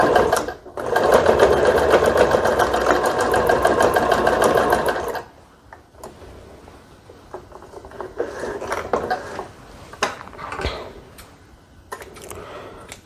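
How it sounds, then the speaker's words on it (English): A sewing machine stitching Ankara fabric for an elastic headband runs in a fast, even rattle for several seconds, then stops, leaving quieter handling noises and light clicks. "So I'll take it to my sewing machine now and sew this."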